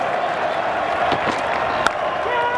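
Cricket crowd at Adelaide cheering and applauding Australia's Ashes Test victory, a steady roar of massed clapping and shouts with a sharp whoop rising near the end.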